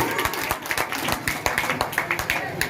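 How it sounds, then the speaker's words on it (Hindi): A crowd applauds at the opening of a Diwali fair in a village panchayat, with brisk, continuous clapping in an uneven rhythm and no break. "जोरदार ताली से स्वागत करें"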